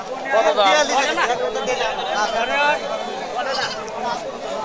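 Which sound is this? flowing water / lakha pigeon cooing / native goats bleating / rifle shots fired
native goats bleating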